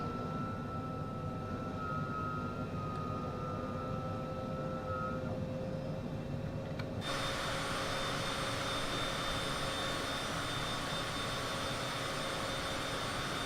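Cessna Citation CJ4 jet engines spool up as the throttle increases in Microsoft Flight Simulator 2020, a steady cockpit roar that grows suddenly louder and brighter partway through, with no talking.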